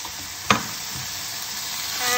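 Okra curry sizzles steadily in a pan as yogurt is stirred in, with one sharp scrape of the spoon and an even frying hiss throughout.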